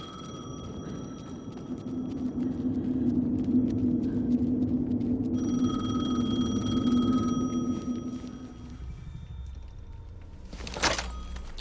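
A telephone ringing in the video game Alan Wake 2, repeated rings over a low droning ambience, followed by a brief thunk as the ring stops.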